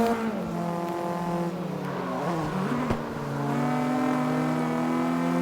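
A street car engine in the racing game CarX Street drones steadily, its pitch dipping and climbing again as the car accelerates, continuous and fairly loud with no talking.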